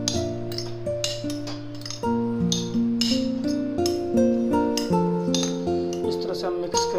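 A spoon stirs lemon juice and salt into a masala papad topping, with rapid metallic clinks and ringing taps against a bowl repeating throughout at close range.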